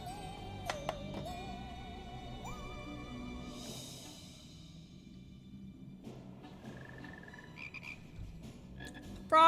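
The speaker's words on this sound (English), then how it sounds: "Cool frogs." Frogs croak in a Final Fantasy XIV game scene, a run of repeated croaks mixed with soft in-game chimes and tonal effects, moderately close, with no voices.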